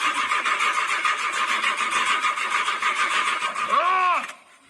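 In the video game GTA 5, a car engine cranks steadily for several seconds, its starter whirring loud and close, then revs briefly before cutting out.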